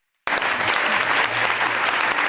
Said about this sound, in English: I'd just like to give a final warm round of applause to all of our speakers.